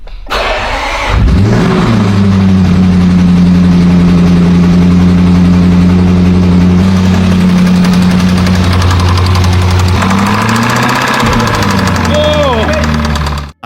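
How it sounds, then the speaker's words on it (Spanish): A rebuilt Range Rover SVR engine cranks, catches and runs loudly up close, holding a rough idle with an abnormal repetitive knocking, then revs up briefly before shutting off abruptly. "Había un sonido de golpeteo y una presión repetitiva anormal."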